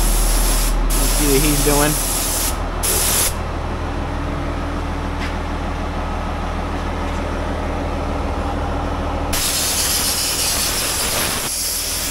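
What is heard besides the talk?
spray gun applying WoolWax undercoating to a Ford F150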